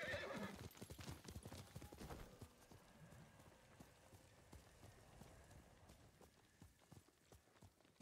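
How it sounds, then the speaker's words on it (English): Horse hooves clip-clop and a horse neighs in the video game Ghost of Tsushima, loud and busy in the first two seconds, then softer, scattered hoof steps continue under ambient game sound with no talk. "Yuriko's horse. She can't be far."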